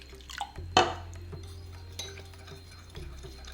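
Sour curd is stirred with water in a bowl: a spoon clinks sharply against the side once, then scrapes and swirls softly in the liquid, with faint clicks over a low background hum.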